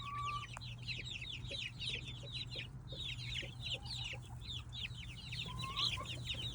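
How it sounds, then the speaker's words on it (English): Young farm chicks cluck and peep steadily while pecking at watermelon, a busy flock of many quick chirps close by over a low steady hum, with no talking. "And I am giving it to the chicks, the young chicks."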